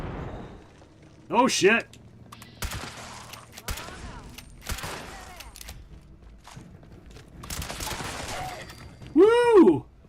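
Grenade blasts and gunfire ring out in the post-apocalyptic shooter Fallout 76, with sharp bursts and rumbling impacts scattered across the stretch. A player's voice swears and talks over the din, and a loud tonal game sound closes it near the end.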